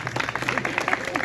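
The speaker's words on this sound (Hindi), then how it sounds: "इनके लिए एक बार जोरदार तालियां।" An audience at a public speech bursts into a short, dense round of clapping, a steady patter of many hands at moderate distance.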